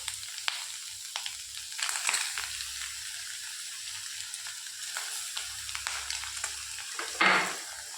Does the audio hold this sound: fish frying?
yes